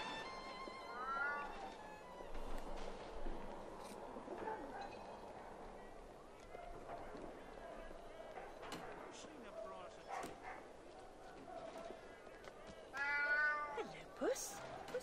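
In Alice: Madness Returns, a cat meows in several rising, wavering calls near the start and again near the end, amid quiet game ambience and a soft voice speaking.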